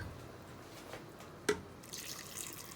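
Water runs into a pot of garbure, a hearty traditional French stew with bouquet garni, a faint steady trickle broken by one brief splash or clink midway, with no talking.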